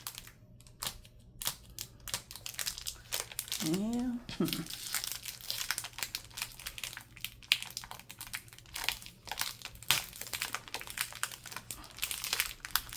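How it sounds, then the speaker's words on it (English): A plastic bag crinkles and rustles in repeated close bursts as items are pulled from it, with a brief spoken word partway through. "let's see if I can take one out without tearing up the bag and making up too much noise"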